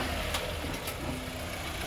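A 2008 VW Passat wagon's engine idles with a steady low hum as the car creeps onto a ramp for an oil change, a faint whine running over the rumble.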